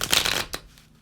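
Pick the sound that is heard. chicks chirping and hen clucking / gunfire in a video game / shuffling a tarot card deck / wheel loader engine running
shuffling a tarot card deck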